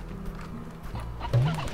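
Chickens clucking in the video game Slime Rancher, a few short low clucks close by over a steady ambient game background, with no talk.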